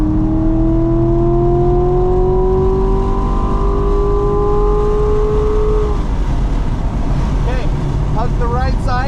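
A car on the Burt Brothers Motorpark East Track drives steadily, engine droning and rising, then the tone shifts and wavers as it exits a corner; a driving instructor's voice talks over it throughout.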